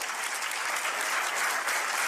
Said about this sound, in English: A room full of the media, quote unquote, the media TM, applauding bullshit.